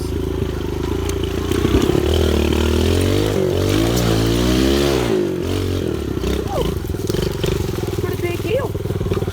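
A small pit bike climbs a big hill on a dirt trail, its engine revving up and down close by, with clattering and scraping along the way and the rider talking over it at times.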